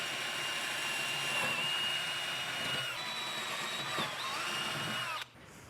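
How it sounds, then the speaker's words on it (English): A power drill bores a hole through steel on a subcompact tractor bucket extender, a steady close whine with shifting pitch as the bit cuts, then it stops abruptly near the end. "I'm going to skip about a ½ inch and drill a hole a little bit further out here through the steel."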